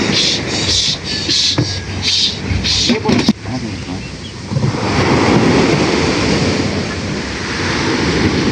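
Ocean surf roars in a broad wash, rising louder halfway through, with wind noise and brief bits of talk and clatter early on.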